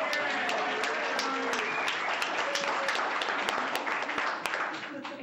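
Steady applause from the audience at a school board of education meeting fills the room for several seconds, dense and even, then tapers slightly toward the end.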